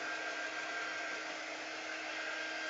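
A hair dryer blows steadily to dry paint on a dollar-store picture frame, a constant close whirring rush with no change in pitch and no voices.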